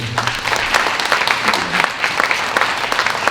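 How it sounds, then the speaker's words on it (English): An audience at a Brooklyn community board meeting applauds police officers of the 71st Precinct with close, steady clapping throughout, a faint murmur of voices beneath it. "Can we give them a round of applause?"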